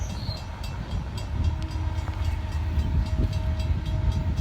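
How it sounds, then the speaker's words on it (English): A CSX manifest freight train rumbling past at a crossing on Lake Avenue in Blasdell, New York, a loud, continuous low roar of rolling cars with faint steady tones riding above it. "we got another CSX train coming down"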